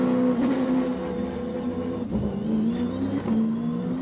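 A hill climb race car with an AMG engine accelerates hard, its steady, loud engine drone rising and shifting with brief gear changes, heard close and alone.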